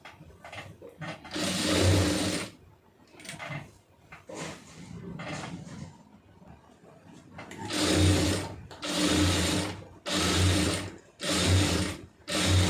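A sewing machine stitches the lining of a pleated puff sleeve in several bursts of rapid, whirring motor noise, close by, separated by short pauses and handling sounds, with no talking.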